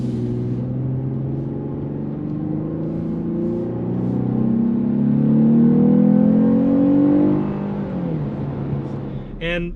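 A 2020 Lexus GS350 AWD with a V6 engine revs up under acceleration, a loud, steady rising engine note climbing in pitch for several seconds, then easing off near the end, heard from inside the car without talk.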